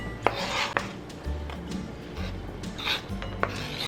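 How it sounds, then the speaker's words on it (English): Strawberries are sliced with a knife against a cutting board for a banana split dessert, heard as several sharp close taps and scrapes at uneven intervals. "Slice them and place them into a bowl."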